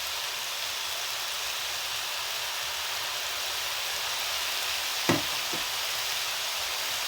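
Crushed stock cubes mixed with paprika flakes hit a hot pan, giving a steady, even sizzling hiss throughout, with one brief soft thump from the pour near the end.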